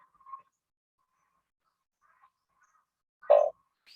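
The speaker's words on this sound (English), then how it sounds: "There's another frog call coming." A recorded frog call sounds from near-silence, with a soft short note early on, faint scattered traces, then one loud abrupt croak about three-quarters through.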